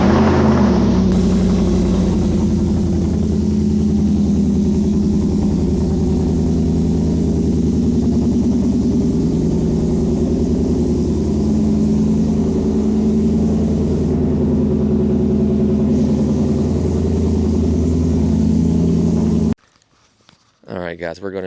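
A Ford F150 pickup fitted with a custom exhaust idles and runs steadily in a warm start, a loud, deep, continuous engine drone with little change, cutting off abruptly near the end.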